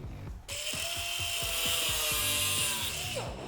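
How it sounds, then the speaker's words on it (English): An abrasive cutoff wheel slices through braided AN fuel line wrapped in electrical tape while building a Factory Five Replica Cobra kit car, a sustained high grinding whine running about three seconds with low rhythmic knocks beneath, close and loud. "now what we're going to do is take a cutoff wheel"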